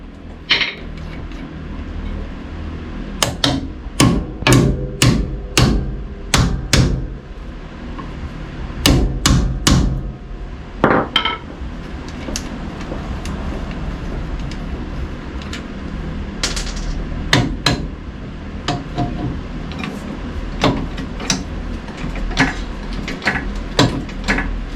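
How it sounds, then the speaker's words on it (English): Hammer tapping out a ball joint on a 1995-2004 first-generation Toyota Tacoma upper control arm, sharp metallic strikes in irregular bursts and clusters, close and loud, with no talk. "I'm going to use my other hammer, and then I'm just going to kind of tap that out a little bit"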